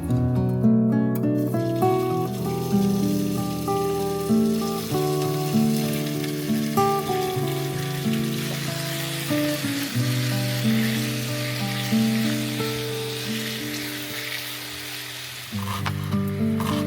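Pork sizzles in a skillet as it fries, a continuous crackle under loud music that carries throughout, with no talking.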